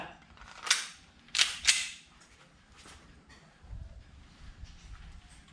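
A Cybergun M1911 A1 CO2 BB pistol fires three sharp cracks at close range, two of them in quick succession, with quiet rustling in between and no talk.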